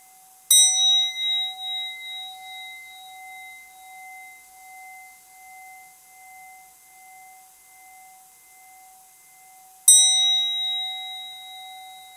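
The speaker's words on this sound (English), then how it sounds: "And the bell is rung three times." A Zen temple bell is struck twice, with the strikes about nine seconds apart. Each strike rings out clearly and fades slowly in a long, pure humming decay, with no talking.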